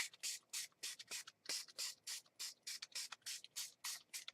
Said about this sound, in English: I'm just going to take the pink and kind of spray it a little bit on here